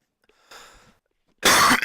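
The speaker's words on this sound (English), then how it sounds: "sorry for coughing" A short, faint throat sound followed by one loud, harsh cough up close, with silence around them.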